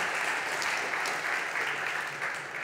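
Audience applause at a conference talk about Python in the oil and gas industry, continuous clapping from a crowd, steady and moderately quiet.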